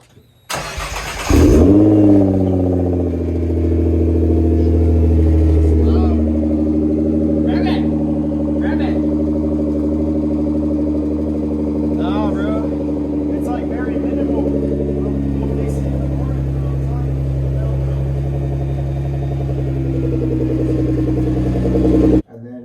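A Nissan GT-R engine with a newly installed exhaust cranks and catches, then settles into a loud, steady rumbling idle with deep harmonics, close by, while people talk over it.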